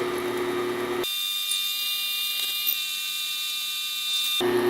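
An electric mixer creams butter and light brown sugar for banana bread with a steady high whine for about three seconds, close and even, starting and stopping abruptly against a quieter room background.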